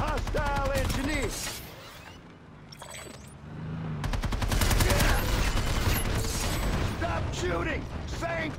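Rapid gunfire and mechanical weapon noises in the sci-fi shooter PlanetSide 2, dense bursts of automatic fire with brief lulls, layered with clanking and game voice chatter.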